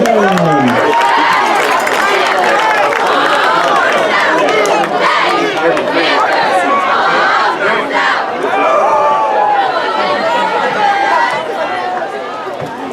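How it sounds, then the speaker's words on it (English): A packed crowd roars continuously at a high school football game at Washington, dense shouting and cheering filling the air from start to finish, loud and close, with voices talking over it. "It is a loud crowd here at Washington"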